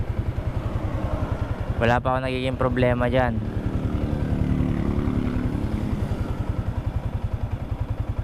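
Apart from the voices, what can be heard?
motorcycle engine running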